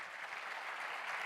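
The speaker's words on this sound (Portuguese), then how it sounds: "uma salva de palmas para os meus convidados" An audience at a round-table panel discussion applauds the guests with a continuous, even wash of clapping, moderately distant and heard alone.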